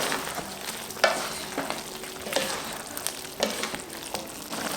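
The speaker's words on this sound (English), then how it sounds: "now we need to stir it" Filipino pork blood stew (dinuguan) stirred in a pot, a bubbling sizzle broken by a series of spoon scrapes against the pot at a regular pace, close and moderately loud.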